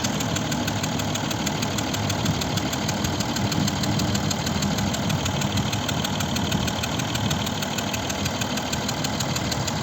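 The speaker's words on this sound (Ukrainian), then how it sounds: "Зараз послухаємо, як працює двигун." A 2015 Mercedes-Benz S 350 W222 3.0 V6 diesel engine idles steadily with a low, even rumble and faint knocking rhythm, continuous and close, with no talking.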